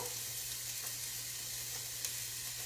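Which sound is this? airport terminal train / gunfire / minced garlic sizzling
minced garlic sizzling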